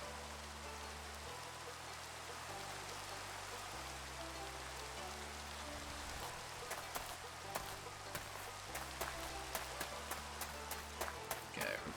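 Rain falls in the video game Minecraft as a steady, soft hiss, with a low droning music line underneath and scattered sharp clicks toward the end.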